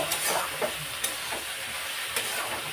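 A curry sizzles loudly in a pan as water is added, with a continuous hissing fry broken by a few sharp clinks of stirring.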